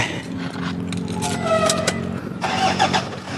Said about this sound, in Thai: รถสตาร์ติดแล้ว